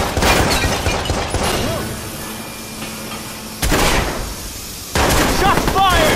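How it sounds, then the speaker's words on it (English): Gunfire in the video game Watch Dogs: sharp, loud shots and impacts burst out in an irregular exchange, with tense combat noise and background chatter between the volleys. "I got shots fired at my location!"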